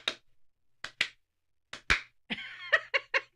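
Sharp, isolated hand claps and smacks in an irregular pattern, single claps, then a pair, then a quick run of several, loud and close in a quiet room, with a brief voice partway through.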